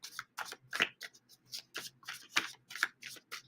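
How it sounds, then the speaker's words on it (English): Cardboard oracle cards are shuffled by hand in quick, regular riffling bursts, close and crisp, about a dozen flutters in a row with no talking over them. "Yeah, they're shuffling a little better than I thought they would."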